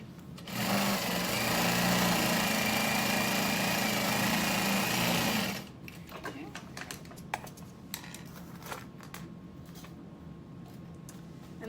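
A sewing machine runs a 3.5 stitch length along a half-inch seam on a tote bag, a loud continuous whirring for several seconds, then stops and gives way to light clicks and fabric handling.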